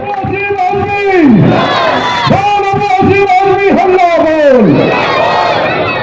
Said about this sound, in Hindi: जोरदार तालियों से एक बार हमारे नए साथियों का स्वागत कीजिए